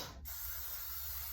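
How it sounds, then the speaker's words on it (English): Cooking spray hisses steadily from a can into a 9x13 baking dish in one continuous, close, fairly loud burst lasting about a second, with no talking. "we will need to spray it with some cooking spray"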